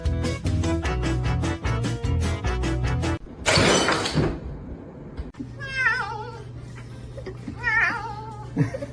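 A small kitten meows repeatedly, loud and close, in short high cries. Earlier there are dense rhythmic sounds and a burst of noise before the meows begin.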